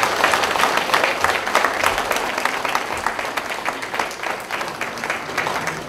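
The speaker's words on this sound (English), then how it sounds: "So let's give a big round of applause." A crowd at a Jamaican Emancipation and Independence celebration claps loudly and steadily in honour of the ancestors, with dense, sustained applause that holds across the whole stretch and eases slightly toward the end.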